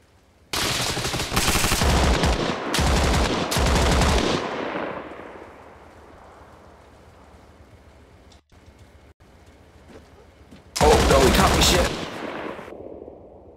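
Several long bursts of automatic gunfire come from a vehicle gunner in the video game Arma Reforger. They are loud and rapid and fade into a long echoing tail, with a final burst near the end.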